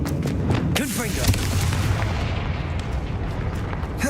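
A Confringo fire spell blasts in the video game Hogwarts Legacy, a heavy booming burst that rolls on with a dense, rumbling roar, loud and close throughout.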